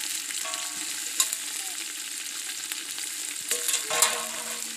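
Onion, tomato and green chili sautéing together for a village-style fish curry: a constant close sizzle with a few sharp spoon scrapes and stirring knocks against the pan.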